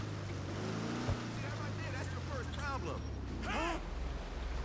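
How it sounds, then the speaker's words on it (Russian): A motorboat in GTA 5 Online runs with a steady low engine drone over water and wind noise, while someone talks quietly above it. "Ну вон катер."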